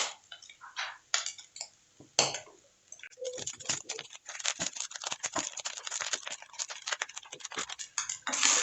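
Rice is stirred in a pan for chicken fried rice, a dense run of close scraping, tossing and rattling strokes with brief pauses, fairly loud and without talk.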